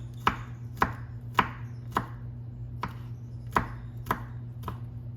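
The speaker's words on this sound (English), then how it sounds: "and then I'll just finely chop them" A knife finely chops vegetable pieces on a cutting board for Mexican rice, seven or eight crisp, evenly spaced knocks over a low steady hum, with no talking.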